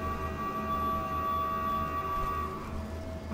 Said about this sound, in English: Somebody kill that goddamn siren.